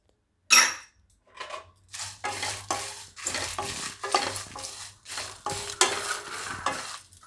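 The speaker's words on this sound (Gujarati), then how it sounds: "હવે આપણે એમાં લાલ મરચાં નાખી દઈશું." Red chilies tossed into a pan and stirred while making Gujarati dabeli masala, with a sharp clatter at the start followed by steady rhythmic scraping and rattling of spices against the pan, up close with no talking.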